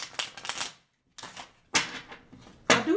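Tarot cards are shuffled up close in several quick riffling bursts of papery flutter and snaps, separated by short pauses, with no talking.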